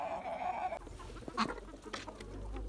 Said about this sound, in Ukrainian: Реально, це молодий півник